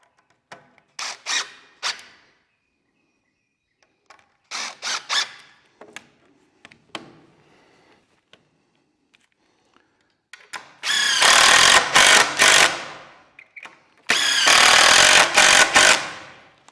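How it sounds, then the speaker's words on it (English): Power drill driving screws into a framing board during interior stud framing: several short bursts early on, then two long, loud, steady whirring runs near the end, with no talking. "I'm going to go ahead and put a couple of screws in about right here."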